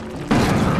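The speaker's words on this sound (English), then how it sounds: "Big explosions!" A grenade launcher blast in the video game Defiance hits with a sudden loud boom that cuts in partway through and rumbles on without fading.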